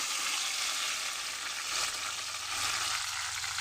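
Chicken hearts and liver frying in hot oil in a pan over a wood-fired stove, a continuous close sizzle with faint stirring scrapes, unbroken and steady throughout.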